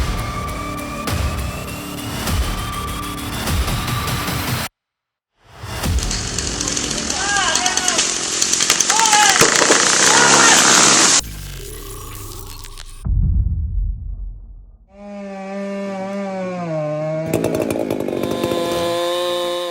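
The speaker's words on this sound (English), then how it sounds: "This logger's dropping a huge tree with a 36-inch chainsaw bar, perfect for the job." Big chainsaw with a 36-inch bar felling a massive cedar tree, its loud sustained engine roar running through most of the stretch, broken by a brief silent gap and a few abrupt changes, with voices heard in places.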